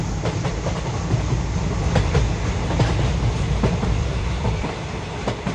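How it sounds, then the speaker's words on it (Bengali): A night train running on rails, heard from inside with a loud continuous rumble and a rhythmic clickety-clack of wheels over rail joints. "রাতের ট্রেন একটার পর একটা স্টেশন ছেড়ে যায়"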